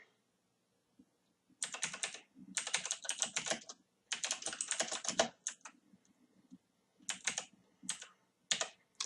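Close computer keyboard typing comes in several rapid bursts of clattering keystrokes separated by short pauses, ending with a few isolated key taps, with no voices.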